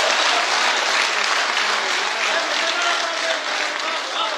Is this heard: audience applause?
yes